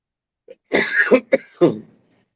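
A person coughs and clears their throat in a short burst of three or four harsh, close coughs, then quiet.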